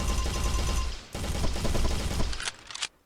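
Video-game gunfire in an FPS crackles in loud, dense bursts, a sustained volley that breaks briefly, resumes, then ends in a few sharp final shots.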